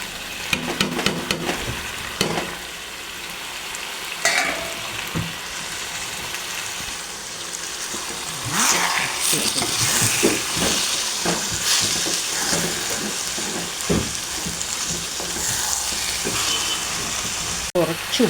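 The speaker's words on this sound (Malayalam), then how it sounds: "മല്ലിപ്പൊടി, മുളക് പൊടി ഒന്ന് ചെറുതായിട്ട് മൂപ്പിച്ചതാണ്." Coriander and chili powder fry in hot oil for a liver roast, giving a steady sizzle and hiss with occasional stirring scrapes and clinks, and a voice speaking over it at times.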